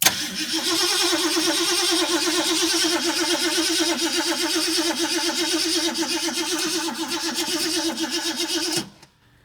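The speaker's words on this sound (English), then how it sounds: "I would like to at least hear it try to fire. Let me give her another crank." A 1969 Ford Mustang, stored for over thirty years, cranking without firing: a steady rhythmic starter churn that runs for nearly nine seconds, then stops abruptly into silence.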